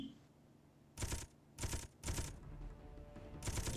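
Rapid bursts of gunfire from ships in the game Space Engineers, four loud broadband volleys about half a second apart, each a dense rattling stream over a low background rumble, with no voices.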